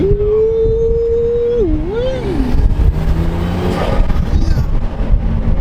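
A tuned BMW B58 inline-six pulls hard under acceleration, heard from inside the car with a loud, rising engine note and a turbo whistle, then a brief dip before the drone carries on steadily.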